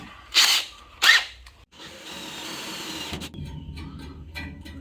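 A power drill bores a pilot hole for a tap in steel on a 1966 Ford Bronco side step: two short hissing bursts, then a longer, steadier grinding run up close.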